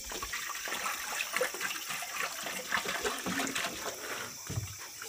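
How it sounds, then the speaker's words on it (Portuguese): Hot water from a kettle boiled over a campfire is poured out in a steady splashing, gurgling stream, continuous over several seconds. "Vou meter um pouco d'água."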